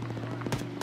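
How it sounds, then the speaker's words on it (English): Gunfire in a combat zone near a compound: two sharp broadband shots at moderate distance, the second about a quarter second after the first, over a steady low engine-like hum. "Hearing shots to the north, eyes."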